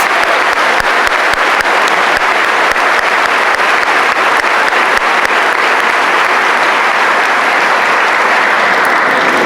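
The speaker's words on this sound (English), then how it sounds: "Please give a round of applause again for this wonderful act of service." A large crowd at a high school graduation ceremony applauds loudly and continuously, a dense, even wash of clapping that holds steady for about nine seconds with no voices over it.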